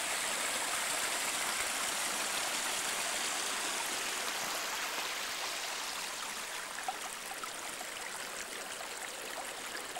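A small mountain brook in the Branisko hills, flowing with a steady, close hiss and soft gurgle that stays even throughout, no voices over it.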